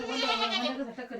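A goat on a village farm gives one drawn-out, wavering bleat, close and clear, lasting about a second.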